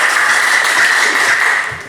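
A classroom audience claps together, a dense, steady patter of many hands filling the room at close range, holding level for nearly two seconds before starting to fade at the end.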